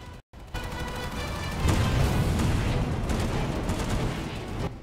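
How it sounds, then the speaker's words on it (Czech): Gunfire and explosive rocket blasts from above near a spawn area rumble loudly and continuously during a night airsoft game, a steady barrage with heavy low booms and no clear talk. "Pozor, střílí raketama ze zhora,"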